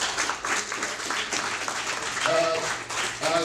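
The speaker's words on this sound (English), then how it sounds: "let's give a big round of applause to our panel" Continuous audience applause for a film panel at a Hollywood festival, a steady crowd wash throughout with a voice briefly speaking over it near the end.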